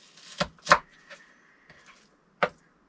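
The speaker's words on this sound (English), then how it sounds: "I am making a mess of chopping these onions." A few sharp knife chops through onions on a board, two quick close strikes, a pause, then one more, with faint clatter between.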